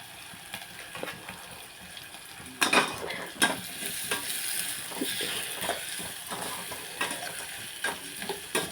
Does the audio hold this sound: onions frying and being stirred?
yes